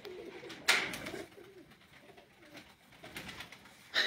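Pigeons coo on a rooftop in soft, low, rolling calls at close to middle distance, with sharp rustling bursts like wing flaps at the start and end.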